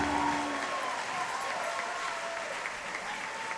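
Applause for Farita at a 2021 tribute event for Jossy Brokke, a steady crowd clapping throughout, moderately loud, with a faint voice or tone in the first half-second.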